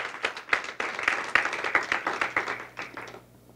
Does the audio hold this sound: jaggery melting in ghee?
no